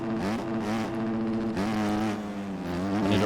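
Motocross bike engine in the MX Bikes racing game, a steady buzzing drone that rises and falls in pitch with throttle and gear shifts, loud and continuous with no talk.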